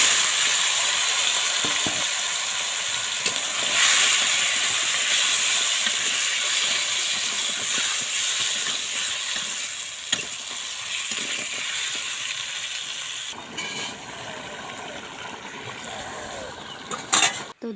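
Beef sizzles and fries in oil in a wok, a steady loud hiss with occasional stirring scrapes that continues without a break and eases slightly toward the end.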